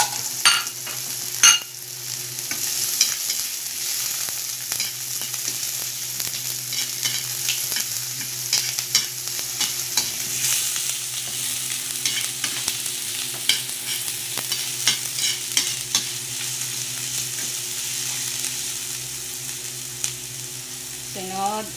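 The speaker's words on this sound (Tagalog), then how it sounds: "Lagyan na ang sibuyas." Onion sautéing in oil in a pan for a bean sprout and tofu stir-fry, with a steady broad sizzle throughout, occasional utensil clicks and stirring scrapes, fairly close and even in loudness.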